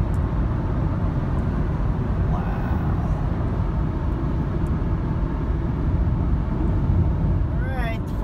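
A 2017 Nissan NV200 van on the road, heard from inside as a steady, loud low rumble of engine and road noise that holds even and continuous throughout.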